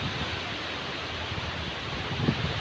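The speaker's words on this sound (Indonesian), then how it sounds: "Angin kencang bro." Strong wind roars steadily outdoors during an eel fishing trip, a constant broadband rush with a small gust near the end and no talking.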